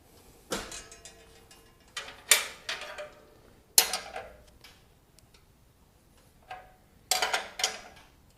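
Bolts being tightened on a Certiflat 36x48 steel welding table: sharp metallic clicks and clanks in separate short clusters, close and fairly quiet, with gaps of near silence between.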